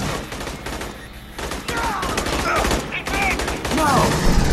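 Rapid gunfire bursts in the Aliens: Colonial Marines video game, loud and dense over a continuous battle bed, with shouted voices and game dialogue over the shooting.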